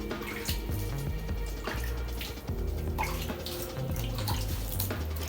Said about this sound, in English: I'm just going to splash a little bit of water